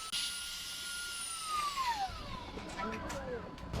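An electric air pump used to deflate an inflatable tube gives a steady, fairly loud motor whine that glides down in pitch as it runs, with faint voices in the background.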